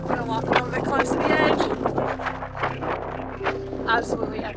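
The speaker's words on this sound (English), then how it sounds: "It is super windy, so apologies if you can't hear me" Strong wind buffets the microphone on a mountain ridge at the Quiraing on the Isle of Skye, a loud, gusty rumble running beneath a person talking throughout.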